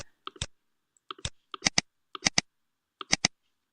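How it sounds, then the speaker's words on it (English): Crisp keystrokes on a computer keyboard, including the Shift key, come in short clustered bursts of two or three clicks with brief silent gaps, close and isolated in a quiet room. "we want to press the Shift button on your keyboard"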